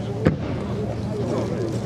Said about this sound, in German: Und von Vero den Explosion Simulator